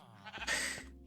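A sheep in Minecraft bleats once, a short wavering baa that swells midway and fades, close and clear against a quiet backdrop with faint soft clicks beforehand.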